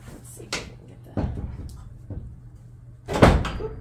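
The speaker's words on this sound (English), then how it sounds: "There, got the door to close." An old door in an antique shop building is pushed shut, with several wooden knocks and bumps as it is worked closed, ending in a louder thud near the end, heard up close with no talking.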